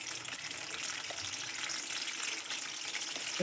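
Washed chillies fry in about four tablespoons of oil in a kadai, making a continuous, close, fairly loud sizzle with light bubbling and no voices.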